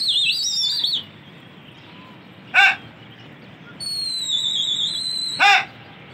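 Flock of pigeons, lofted fighting birds in Lucknow, coming back from flight: thin high chirping whistles in two stretches, each ending in a sharp broadband snap, over a low steady background.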